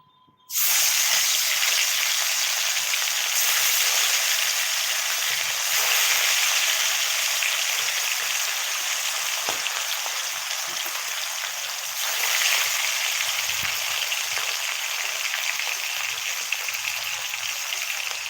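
Hilsa fish pieces fry in oil in a wok, giving a loud, steady crackling sizzle that carries on unbroken from start to end with no talking.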